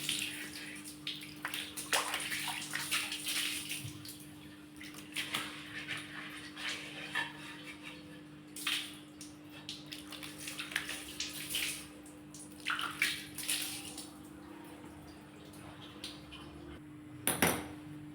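A new clay pot is washed with liquid soap and water, producing intermittent splashing, scrubbing and soft clinks over a steady low hum, with pauses between bursts.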